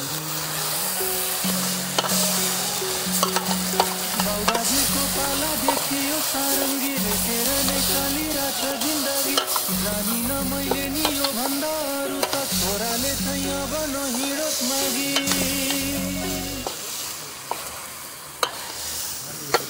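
Meat fries in a pan outdoors by a stream while being stirred, a steady sizzle broken by repeated scraping and clacking strokes of the utensil, with a low tonal hum underneath for most of the stretch.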